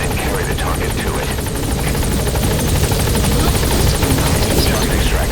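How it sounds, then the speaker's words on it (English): Support helicopter from Metal Gear Solid V: The Phantom Pain arriving, a loud continuous rotor chop with turbine whine filling the whole stretch, under game radio voices. "Call the chopper from your iDroid, boss."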